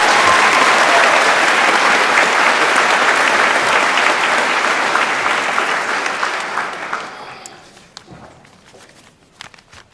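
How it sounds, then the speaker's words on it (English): A crowd at a mechanical engineering graduation ceremony gives a final round of applause for departmental award winners, a loud dense roar of clapping that fades out after about seven seconds, leaving a few scattered claps and footsteps. "let's give a final round of applause for all of our award winners in our department"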